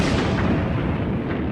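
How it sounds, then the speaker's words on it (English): Heavy World War I artillery bombardment rumbles as a dense, continuous low roar of overlapping blasts, loud and sustained without a break. "massive artillery bombardments,"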